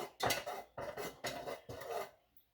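Slow stirring of fragrance oil into melted soy candle wax, with several regular scraping, clinking strokes of a utensil against the container, each about half a second long, close and fairly soft, ending in quiet.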